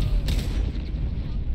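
Explosions from a barrel in Baldur's Gate 3 land as a heavy booming rumble, one burst near the start followed by a sustained low roar that fills the moment, loud and close, with a faint voice beneath.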